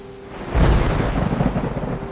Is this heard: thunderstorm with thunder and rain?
yes